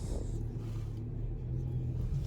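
A 2024 Cupra Formentor 1.5 eTSI VZ Line with a DSG gearbox creeps slowly forward, giving a low, steady engine rumble and road hum, close and fairly quiet, with no talking.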